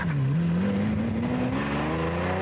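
Lamborghini Countach engine throbs up close, a deep pulsing note that rises steadily in pitch over a couple of seconds, loud and alone.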